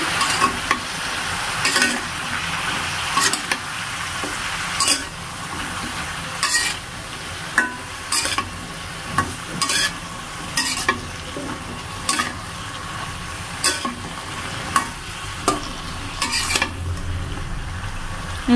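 Vegetables frying with salt, turmeric and green chilies in a pan, a steady sizzle beneath repeated scraping stirs of a spoon against the pan at a regular pace, close and moderately loud, with no talking.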